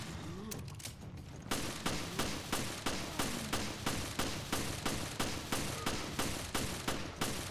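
Rapid, evenly spaced gunfire from Resident Evil Revelations in Trench Raid mode, an auto-aimed weapon cracking roughly every third of a second in a loud, steady series that runs from a scrappier opening burst straight through to the end.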